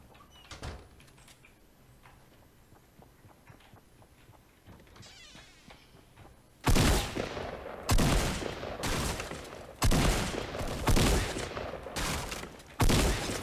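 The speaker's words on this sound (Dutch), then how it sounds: "Ik hoor nog meer schoten." After a quiet stretch, bursts of Fortnite: Battle Royale gunfire erupt in loud repeated volleys, sharp and close, with brief pauses between.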